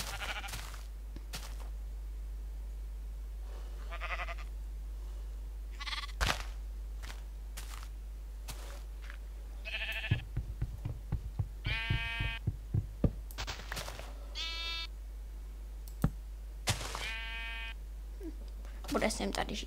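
Several sheep bleat in a farming survival video game, a series of distinct nasal bleats spread out over the stretch, mixed with scattered clicks and knocks against a low steady hum.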